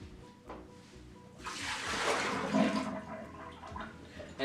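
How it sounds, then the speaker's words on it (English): Water drained from a pot of boiled potatoes gushes into a kitchen sink, a steady loud splashing pour lasting a few seconds after a quiet start, with no talking. "Now we're going to pour this water out to the sink."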